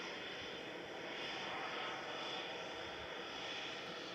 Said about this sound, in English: Flight 2087, A320-200, it's GEZPD